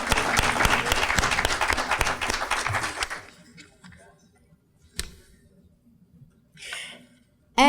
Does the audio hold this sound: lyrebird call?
no